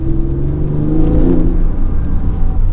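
Porsche 996 C4S in Seal Grey with Öhlins Road & Track coilovers pulling away on the road, a steady mid-pitched engine drone and rising rev sound heard from inside, continuous throughout with no talking.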